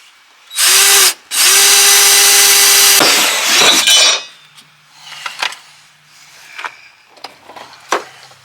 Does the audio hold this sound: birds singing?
no